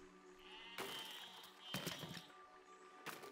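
Sheep in the video game Besiege bleat three times, each a loud wavering cry separated by pauses, over a faint steady background tone.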